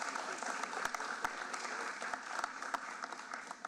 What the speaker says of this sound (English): Let's give a round of applause to these champions,